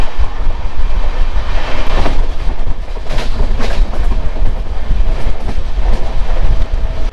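A passenger express train from Sealdah to Balurghat runs on the rails, a loud steady rumble heard from inside a coach, with rhythmic clickety-clack of the wheels over the joints and no talk.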